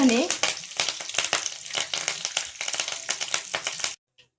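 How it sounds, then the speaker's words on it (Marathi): Mustard seeds crackle and sizzle in hot oil in a kadhai, tempering for vada pav: a steady close spitting patter of fine pops that stops abruptly at the end. "मोहरी तडतडली आहे"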